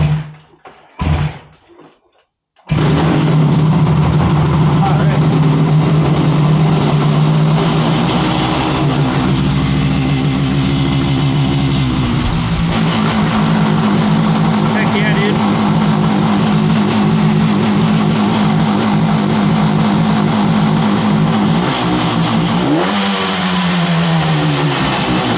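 A 1967 Yamaha YR1 motorcycle engine sputters to life after a few kicks, then runs steadily at idle with a low, even rumble, rising briefly near the end.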